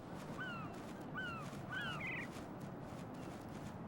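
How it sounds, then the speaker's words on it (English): Seagulls crying in the video game Metal Gear Solid 2, several short rising squawks in quick succession over a steady low ambient rumble, fairly faint and without talk. "Got the little seagulls."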